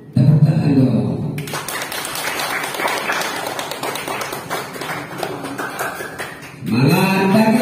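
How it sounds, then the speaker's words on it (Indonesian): A classroom of students claps together for several seconds, a dense burst of applause falling between stretches of a teacher's voice at the start and end. "Tepuk tangan dong."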